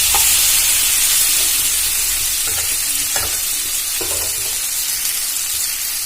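Fried potato pieces stirred and fried in spice paste in a pan for a fish-head and potato ghonto, a steady close sizzle with scraping stir strokes throughout, no voices.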